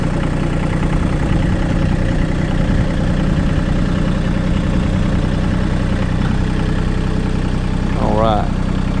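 Massey Ferguson GC1723e compact tractor idling nearby, a loud steady diesel drone that holds unchanged throughout, with a brief faint squeak near the end.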